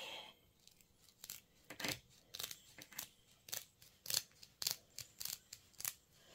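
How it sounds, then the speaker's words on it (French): A series of crisp, brief scissor snips repeat in an uneven rhythm, close up, each a sharp metallic cut with quiet gaps between. "ces ciseaux-là, ils ne coupent pas"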